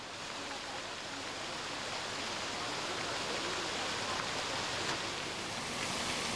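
Water splashes steadily from the two single-piece granite fountains in St. Peter's Square, Rome, a soft, even rushing wash heard from a little distance, with no clear voices on top.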